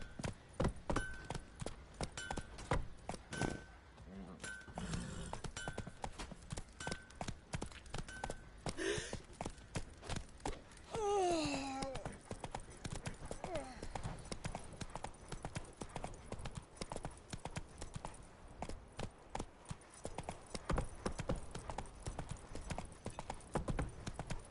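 Horse hooves clip-clop steadily on the ground in The Witcher 3 as a mount is ridden, a continuous close rhythmic trot running throughout with brief character voices and a neigh-like sound partway through.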